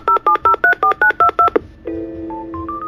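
Eight short, evenly spaced telephone keypad tones sound loud and close, followed by a steady electronic ring or call tone with rising beeps, with no talk over it.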